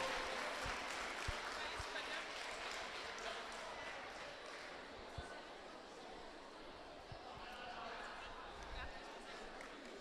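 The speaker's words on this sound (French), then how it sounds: "On l'applaudit." Faint applause from a school audience for a gold medal winner at an awards ceremony, a soft, sustained patter with a few sharper claps and background murmur, heard from a distance.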